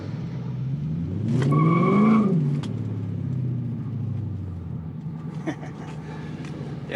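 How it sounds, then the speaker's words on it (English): An Infiniti Q45 running E85 fuel launches at full throttle, its engine rising loudly in pitch then settling into a sustained roar. A brief voice is heard partway through. "if we floor it, if we don't roll into it, yeah, it blows the tires off"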